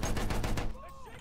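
Rapid gunfire from the World War I shooter Battlefield 1, loud dense bursts for most of the moment before cutting off into a quieter tail with a faint whistling tone.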